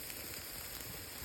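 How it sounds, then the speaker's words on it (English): Steak sizzling over a campfire while camping, a steady close crackle and hiss of frying meat filling the short moment without any voices. "we threw the steak on that bitch. It's sizzling. That shit is hot on the fire."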